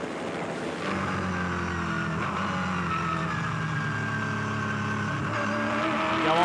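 Ford V8 Supercars racing in the 2006 Bathurst 1000, a loud continuous engine roar with steady harmonic drone and shifting pitch as cars pass, sustained throughout with no talk.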